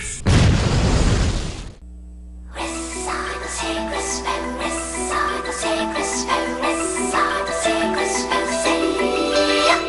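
Video game explosions: a loud booming blast up front, then a short silence followed by a dense stretch of bursting, crackling explosions layered over sustained game music.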